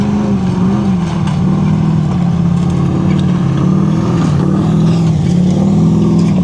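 A rally car engine driven hard on a Cliffhanger stage, roaring loud and close with a steady, sustained drone and slight pitch swells as the throttle is held on, with no gaps.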